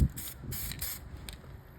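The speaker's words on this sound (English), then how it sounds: "Spraying some weld through primer" Short bursts of weld-through primer hissing from an aerosol spray can onto metal fender panels of a 1964 Chevy Impala, several quick sprays in a row, close and fairly quiet.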